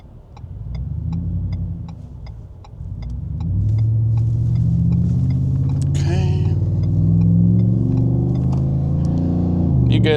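A 2023 Ford F-150 with the 5.0 V8 merges onto a freeway at moderate throttle, the engine's low rumble rising and holding strong as the pickup gathers speed, with a person's voice audible over it.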